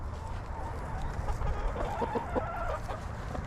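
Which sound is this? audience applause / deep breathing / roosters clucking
roosters clucking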